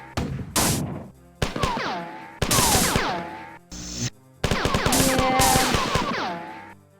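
Bursts of assault rifle fire in the shooter game Marathon: several loud, rapid volleys of sharp reports with ringing, descending tonal whines, broken by short pauses and near-silent gaps.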